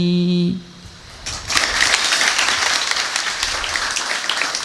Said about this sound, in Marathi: का बरं टाळ्या वाजवल्या तुम्ही?